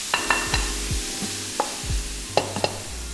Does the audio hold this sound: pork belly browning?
yes